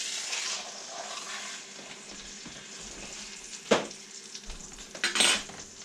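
Seasoned meat for a pot roast frying in hot oil makes a continuous, near sizzle, with a sharp clink of a pan or utensil partway through and a louder burst of spitting toward the end.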